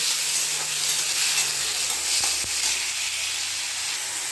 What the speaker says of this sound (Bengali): এই টমেটোটাকে আমি তেলের মধ্যে কষিয়ে নেব